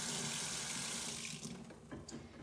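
Tap water runs into a sink while makeup brushes are rinsed upside down. The stream is a strong, continuous rush that thins and breaks up toward the end as the brushes move through it.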